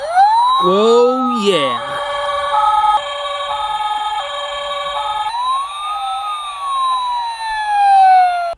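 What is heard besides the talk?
toy fire truck siren sound effects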